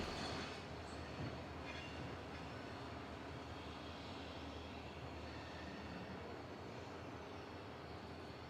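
A freight locomotive running light on the Yorba Linda branch in Orange County, a steady low diesel rumble with rolling rail noise and a faint wheel squeal near the start, heard from a moderate distance.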